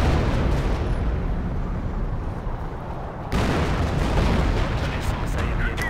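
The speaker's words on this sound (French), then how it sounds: "J'ai réussi à caler une frappe d'artillerie dans le tas." Artillery strike explosions in the World War II strategy game Company of Heroes, a dense rumbling barrage of booms with a sharp surge of blasts about halfway through, steady and loud throughout.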